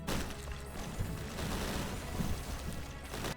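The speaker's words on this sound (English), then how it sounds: "So now we're just getting so many explosions going on over there." Rapid overlapping explosions keep bursting in the horde survival roguelike Gate Guardian, a dense crackling barrage of small booms and pops with no pauses, moderately quiet and heard on their own.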